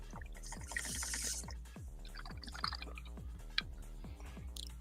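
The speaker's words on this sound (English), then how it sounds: "I hear somebody pouring a soda pop" Soda pop being poured, a steady run of quick gurgling glugs and fizzy drips at a regular rhythm, faint and close, with a soft hiss of carbonation throughout.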